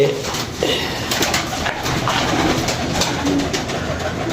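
Pigeons kept by a fancier, cooing softly in a few short calls over a busy, murmuring background, fairly close.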